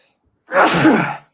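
A single sneeze from a man, loud and close, bursting out after a brief silence and lasting under a second.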